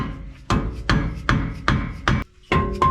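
A hammer smacking a stuck wheel stud on a Ford F250 Super Duty, six sharp metallic blows in a steady rhythm, close and loud, each followed by a brief ringing decay.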